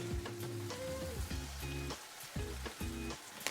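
Ground spices such as chili, coriander and cumin sizzle with tomato and capsicum in a pan over lowered gas flame for chicken bhuna, a quiet crackling fry with brief stirring scrapes.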